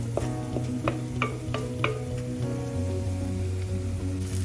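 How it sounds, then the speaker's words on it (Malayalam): Shallots stirred in a hot pan for a Kerala kudampuli fish curry, with a steady close sizzle and a few sharp spoon-against-pan clinks and scrapes in the first two seconds, no talking. "ഓക്കെ, ഞാനതിലേക്ക് ചെറിയുള്ളിയൊക്കെ ഇട്ട് കൊടുത്തു. നല്ല രീതിയിൽ ഞാൻ ഇളക്കി എടുക്കുന്നു."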